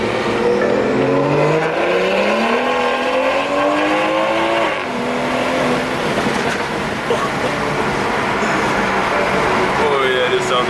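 A BMW 340i engine with an aftermarket downpipe revs hard with a loud, raspy exhaust, pitch climbing and dropping repeatedly, close by, with a voice speaking over it.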